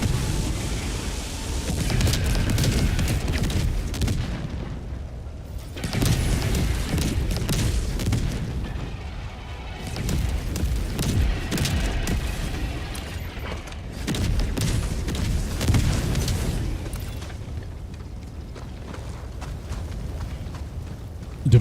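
Orbital strike explosions in the Helldivers 2 video game, a sustained series of heavy, rumbling booms that swell and fade in several waves, loud and dense, with no talk over them.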